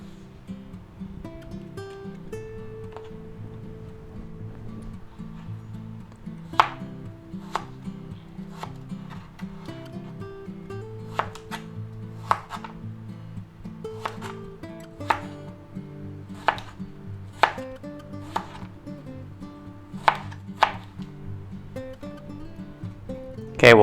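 A knife chops vegetables for veggie spaghetti on a cutting board, a run of sharp, close, fairly regular chops over soft background music.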